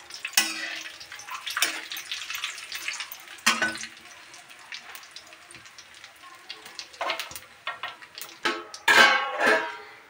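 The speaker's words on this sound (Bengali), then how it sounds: "তেল গরম হয়ে গেছে, এর ভিতরে আমি তেজপাতা আর জিরে ফোড়ন দেব।" Bay leaf and cumin seeds sizzle in hot mustard oil in a home kitchen, a close, bursty crackle that flares and fades repeatedly, with a louder spitting surge near the end and no talk.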